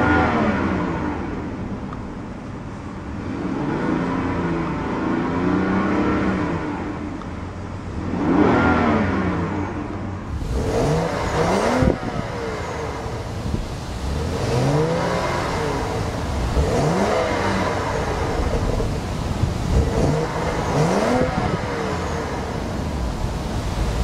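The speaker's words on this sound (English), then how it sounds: "You can definitely hear a bit of that turbo whine as well." Repeated sharp revs from a 2011 BMW 535i M Sport's turbo engine, loud and close, each climbing with a faint turbo whine over the exhaust note before dropping back, several bursts in a row.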